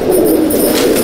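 Low, rolling coos from fancier's pigeons continue close by in a brief stretch, steady and fairly loud with no speech over them.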